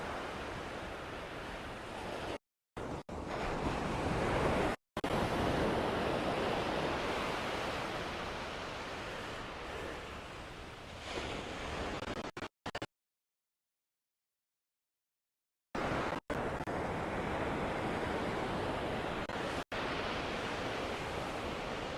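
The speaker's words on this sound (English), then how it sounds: "Huge swell on the Gold Coast at the moment, eh?" Ocean surf from a large swell on the Gold Coast fills the air as a loud, steady roar of breaking waves heard from the shore, broken by a few short silent gaps, with no talking.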